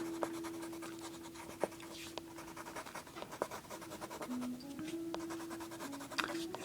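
Colored pencils scratching across paper while working on a memorial art piece, a faint continuous close scratchy rasp with short strokes and a steady background hum, no talking.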